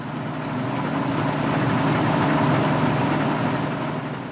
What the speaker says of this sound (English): This Dominator 68, the largest model available, is cutting winter wheat with a 12-foot header.